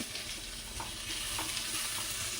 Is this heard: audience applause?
no